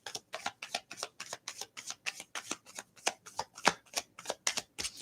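A Sasarabito tarot deck is shuffled by hand in close, quiet riffles, a quick even run of crisp papery flutters repeating about three times a second.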